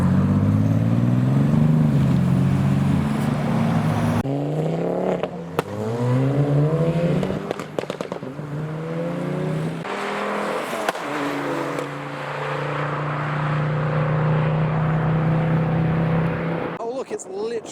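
A white Toyota Supra pulls away from a car show, its engine revving and rising through the gears, loud and close, with spectators talking throughout.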